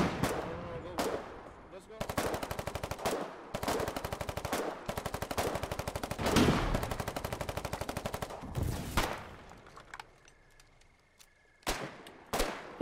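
Gunfire in the video game Foxhole: rapid machine-gun bursts repeat in long rattling strings, separated by short gaps, then thin out to a couple of isolated loud shots near the end.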